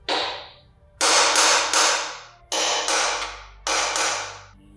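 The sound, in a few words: center punch being hammered to mark drill location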